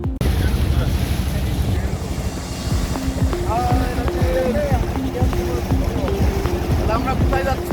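A boat motors across Tanguar Haor, a wetland near Sunamganj, with a steady engine drone and wind buffeting the microphone throughout. Voices come and go faintly beneath the engine noise.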